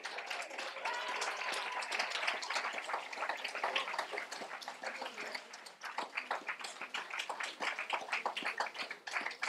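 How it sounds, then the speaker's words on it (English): A lecture audience breaks into sustained, dense applause, steady clapping filling the hall from start to finish. "You have to stop applauding in 13 seconds."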